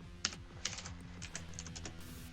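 Quick bursts of keyboard typing, several sharp key clicks in an uneven rhythm, close and clear over a faint tonal background.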